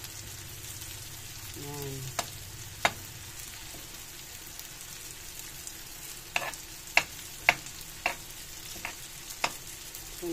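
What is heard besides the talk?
sauteing tofu (tokwa) and ingredients in a pan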